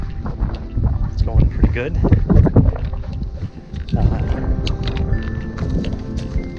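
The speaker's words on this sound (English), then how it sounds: "The wind's blowing here." Wind gusts buffet the microphone on a hiking trail along the Appalachian Trail in Vermont, a rough blustery roar under a man's brief spoken remark and footstep-like rustling.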